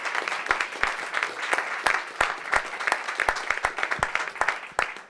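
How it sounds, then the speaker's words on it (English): Audience applause after finalist presentations at a Bitcoin hackathon: dense, sustained clapping from a crowd, loud and steady throughout with sharp individual claps standing out. "Let's just get one more round of applause for everybody"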